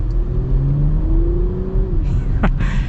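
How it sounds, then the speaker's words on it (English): A Porsche Macan S V6 engine revs up steadily, its pitch climbing under a low rumble, followed by a quick gear-change shift in tone near the end. "Love the sound of this V6, by the way, so far."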